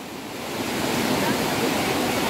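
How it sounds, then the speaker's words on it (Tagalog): Strong ocean waves and a pulling current at a beach during a family outing, heard as a loud, steady surf roar that swells during the first half second and then holds, with no clear voices. "Ayan o, medyo malakas yung alon. Ayan yung agos, pero okay lang."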